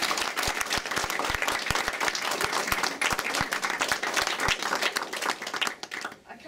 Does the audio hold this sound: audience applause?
yes